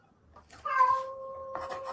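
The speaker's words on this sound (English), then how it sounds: "Oh, there's a cat." A cat meows once, a clear drawn-out tonal call that shifts pitch partway through, heard fairly close in a quiet room with faint background noise before it.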